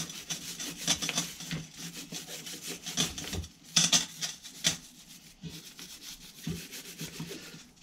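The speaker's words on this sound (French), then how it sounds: "On met une petite brosse." Small brush scrubbing a degreased Bosch CP1 high-pressure diesel injection pump, a series of brisk raspy back-and-forth strokes, close and irregular, with no talking.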